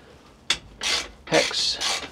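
A wrench turns a 5mm hex bolt on the pilot control valve of a Chinese mini excavator, making a sharp click followed by three short rasping, scraping strokes close by.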